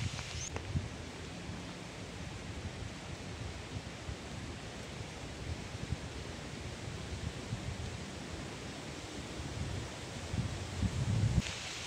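Strong, chilly wind blows steadily through swaying coconut trees outdoors, making a constant broad rush of fronds and air with mild gusts and faint microphone buffeting and no voices.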